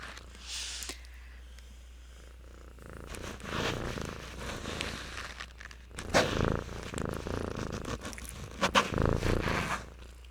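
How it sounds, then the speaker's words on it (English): A female house cat purrs right against the microphone, a steady low rumble running throughout, with rustling and scraping bursts from fur brushing the mic. "did you hear her purr?"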